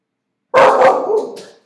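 A single loud, close bark from Wrigley, a pet dog indoors, sharp onset with a rough trailing tail, heard alone after silence.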